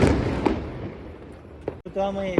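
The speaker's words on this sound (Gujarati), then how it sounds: "બોમ્બ ફોડી રહી છે" Several sharp Diwali firecracker bangs burst out, one after another, with people talking in the background.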